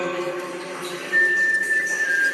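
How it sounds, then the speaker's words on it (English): A sharp, steady whistle starts partway through and holds a single high pitch over a low hum, echoing in a tunnel. "a sharp whistle cuts through the tunnel, its echo bouncing off the walls"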